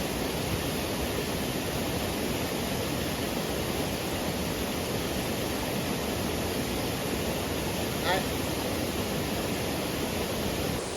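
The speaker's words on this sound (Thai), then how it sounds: "เนี่ยทำน้ำตกธรรมชาติของแท้นี" A natural waterfall pours continuously in the forest, a dense, even roar of falling water that stays close and loud throughout, with no voices.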